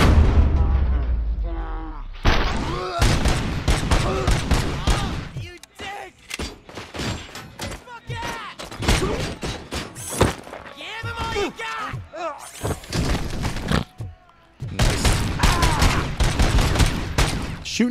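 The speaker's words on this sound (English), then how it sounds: "Shooting dead bodies." Bursts of gunfire and heavy booming shots ring out in a RoboCop: Rogue City prison riot, repeated volleys finishing off downed enemies, loud and close, with someone talking over and between the shots.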